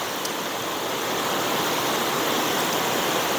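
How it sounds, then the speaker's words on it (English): A forest stream flows close by in a steady, bright rushing wash of water that grows slightly louder as it goes on, alone without speech. "right next to the stream"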